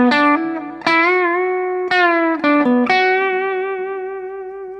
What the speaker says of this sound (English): There's a little bit of distortion. There's some clipping going on.